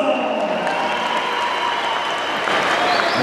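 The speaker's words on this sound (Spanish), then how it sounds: "Si usted quiere que en todo desafío de Charo Michoacán sea el campeón, dígamelo con su aplauso" A crowd at a jaripeo bull-riding event in El Relicario claps steadily in sustained applause, with an announcer's voice faintly mixed in.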